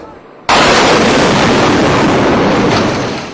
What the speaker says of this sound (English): A massive truck bomb aimed at the Palestine and Sheraton hotels